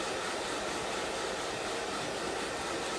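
Hair dryer blowing continuously on a wet transfer, a steady loud whooshing roar with no pauses.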